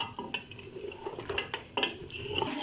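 Spoon scraping and clinking in a pot as mutton masala is stirred with yogurt, a steady run of soft metallic scrapes and taps, close and fairly quiet with no talk.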